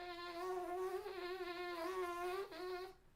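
Trumpet player's lip buzz during a warm-up: a steady, reedy, insect-like drone held for about three seconds with slight wavers in pitch, close and faint, alone.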